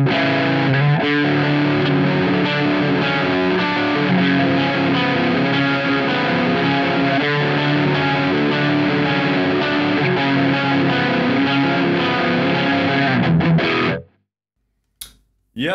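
Electric guitar playing a crunchy, overdriven tone through a Boss Mega Distortion pedal, a loud steady stream of strummed chords that cuts off abruptly near the end, leaving silence and a short noise.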